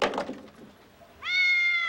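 A black cat gives one clear, close meow lasting under a second, preceded by a few soft knocks and rustles.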